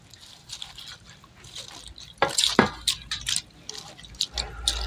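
Sliced Baguio pechay (Chinese cabbage) is dropped and soaked in a basin of water, giving close splashes and drips in irregular bursts, loudest around the middle, over quiet room noise.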